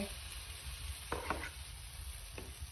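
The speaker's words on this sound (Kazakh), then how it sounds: "Енді тестоларымызды салып бастаймыз. Бір қасықтан салсаңыздар жеткілікті." Spoonfuls of pancake batter fry in a lightly greased pan, giving a steady, close sizzle with a few brief scraping clicks.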